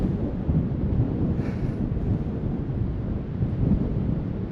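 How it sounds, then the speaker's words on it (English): Strong wind at a beach in Normandy, France buffets the microphone in a steady, low roar, with gusts swelling and easing throughout and no voices. "Oh, it's windy."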